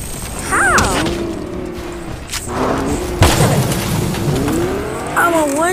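In the Fortnite video game, a car rams the player with impact booms and engine roar, while a voice talks over the game sounds.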